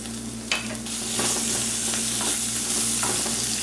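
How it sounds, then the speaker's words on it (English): Apples and onions sautéing in a pan: a steady, bright sizzle with occasional scraping stir strokes and soft clacks, close by, with no talking. "So everything's been sauteing for about 5 minutes."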